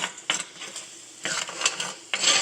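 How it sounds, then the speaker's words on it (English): A spoon stirs meatball sub sauce in a pot on the stove, three or four short scraping bursts close by over a faint background simmer. "So I'm just stirring my sauce up a little bit"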